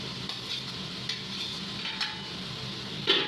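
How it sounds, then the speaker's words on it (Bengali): Potatoes that were fried earlier go into a pan of katla fish curry. They sizzle and get stirred for a few seconds, with a soft, steady frying hiss, light scraping, and one louder clink near the end. "এবার আগে থেকে ভেজে রাখা আলুগুলো দিয়ে দেব।"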